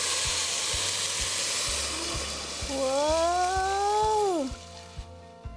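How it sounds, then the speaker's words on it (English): Vegetable stock pours into a hot pot of oatmeal and brown rice, setting off a loud, steady sizzling hiss with faint clinking. A person lets out a drawn-out exclamation partway through before the hiss drops away. "And now here comes some vegetable stock."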